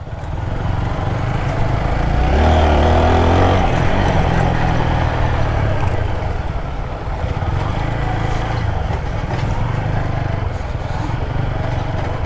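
A motor vehicle drives along an unpaved village road in Bangladesh, giving a loud, steady engine drone with rumbling low tones. It runs continuously close by, and the engine swells briefly early on.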